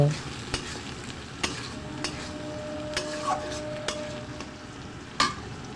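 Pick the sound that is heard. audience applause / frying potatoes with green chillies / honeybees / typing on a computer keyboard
frying potatoes with green chillies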